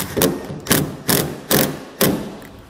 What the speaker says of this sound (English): We're going to slide it all the way forward in our rail, and then just snug it down with a 13mm socket.